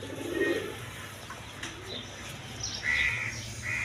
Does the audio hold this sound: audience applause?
no